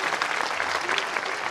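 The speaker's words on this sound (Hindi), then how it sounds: "ताली बजाएंगे।" Audience clapping at a spiritual gathering, a brisk steady burst of many hands close and continuous throughout.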